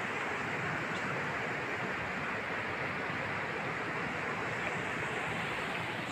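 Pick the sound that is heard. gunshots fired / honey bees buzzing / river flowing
river flowing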